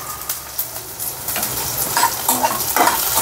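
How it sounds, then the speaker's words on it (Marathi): Onion frying in a pan for pithla, a Maharashtrian gram-flour dish: loud, close, continuous sizzle broken by stirring scrapes and light utensil clinks, with no talking. "कांदा तळू द्यायचा"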